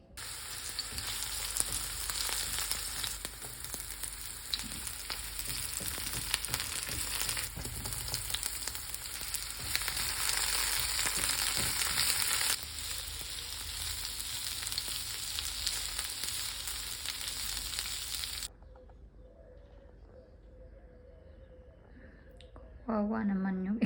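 Two eggs sizzle and fry in a hot pan, a steady loud crackle running for most of the stretch before cutting out into quiet near the end, with a few faint clicks.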